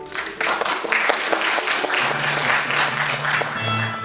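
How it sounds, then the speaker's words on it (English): An audience applauds guests at an evening event, with a dense, even clatter of many clapping hands that starts abruptly and holds steady to the end. "can we please provide a round of applause to all our distinguished guests tonight"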